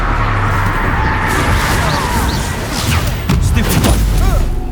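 The Confringo fire spell from the video game Hogwarts Legacy goes off amid loud, dense combat noise, with rapid blasts, booms and crackling impacts piling up throughout.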